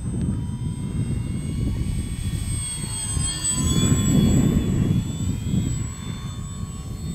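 Scorpio Miss Bipe vintage RC biplane flying in wind, its small engine producing a continuous whining drone that swells as it passes overhead and eases away, with a brief spoken voice over it.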